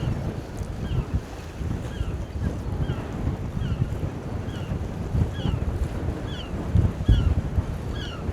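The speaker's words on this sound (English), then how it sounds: "As you can tell, it's a bit windy." Gusty wind buffets the microphone beside a tug boat and barge in a dock channel, a steady low roar with water sounds and faint repeated chirps from birds in the background.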